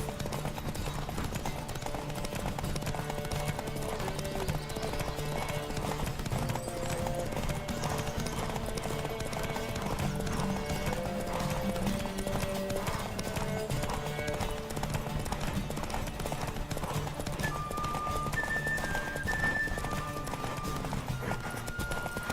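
Rapid rhythmic clip-clop of galloping horse hooves in The Witcher 3: Wild Hunt runs steadily throughout, layered over a continuous musical soundtrack, with a few brief tonal notes near the end.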